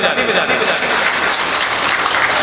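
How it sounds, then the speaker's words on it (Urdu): Audience at an Urdu mushaira poetry gathering breaks into loud, dense applause, a continuous roar of clapping with a faint murmur of voices mixed into the crowd. "ایک بار زوردار تالی بجا دی۔"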